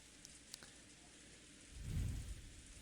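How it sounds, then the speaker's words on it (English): Soft rain falls over a rose garden in the Umineko game, a faint steady patter with a low rumble swelling briefly near the end. "A gentle rain poured down over the Golden Land's rose garden."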